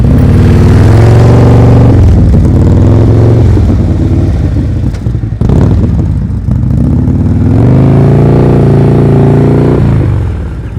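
A motorcycle engine is throttled up and down during slow-speed riding practice, loud and close, with repeated swells of revving between lower idle-like stretches and a brief dip in the middle.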